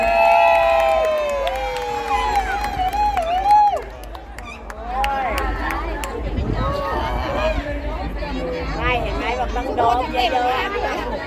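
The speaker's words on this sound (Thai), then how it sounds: "ขอเสียงปรบมือให้กับนักกีฬาทั้งสองทีมอีกครั้งครับผม" A crowd at a local football match cheers for the players of both teams. Excited shouts and high children's voices rise over a busy babble of chatter, with a loud burst at the start easing into ongoing noisy hubbub.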